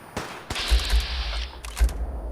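Bursts of gunfire from a Fallout 4 battle, with rapid automatic fire and sharp shots crackling across a loud fight, heard alone without talk.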